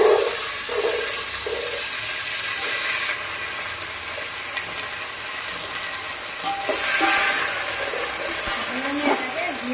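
Carrots, capsicum and beans fry in ghee in a pan, giving a steady broadband sizzle and hiss throughout, with occasional stirring clicks and a voice talking faintly in the background.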